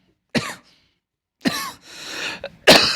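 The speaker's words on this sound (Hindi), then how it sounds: "खांसी बीच में आ जाती है" Several close, harsh coughs from a teacher during a Class 10 electricity numericals lesson: one short burst, a longer rasping cough after a pause, then a final sharp cough, with no talk in between.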